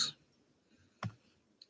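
A single sharp click from a dog-training clicker during a bowl game, short and fairly close in a quiet room, followed by a faint tick.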